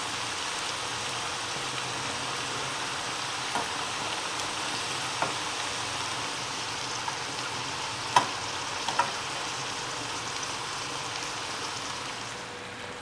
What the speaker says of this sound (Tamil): மீடியம் ஹீட்டில் வச்சு ஃப்ரை பண்ணணும்